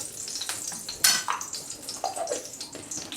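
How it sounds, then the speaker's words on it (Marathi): Chopped dry fruits roasting in two tablespoons of hot ghee for ragi ladoos, a faint crackling sizzle with a few scraping stirs and clinks, close and quiet. "ड्रायफ्रूड हे आपण तुपामध्ये भाजून घेणार आहोत"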